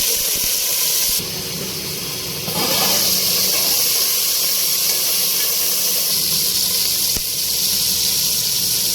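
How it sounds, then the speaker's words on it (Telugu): Green chillies frying in oil in a pan at home, giving a loud, steady sizzling hiss that swells partway through and holds, with no talking. "పచ్చిమిర్చి ఫ్రై చేసుకోవడానికి కొద్దిగా ఉప్పు వేసుకొని ఫ్రై చేసుకుంటే చేదు కాకుండా ఉంటుంది"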